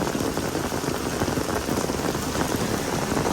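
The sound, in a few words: heavy rain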